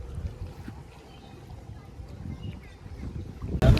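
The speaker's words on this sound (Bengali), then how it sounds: "এই যে গরুর ট্রলার আই পড়ছে।" A river trawler carrying cattle draws near, heard as a low, steady engine rumble under wind noise, swelling with a louder rush at the end.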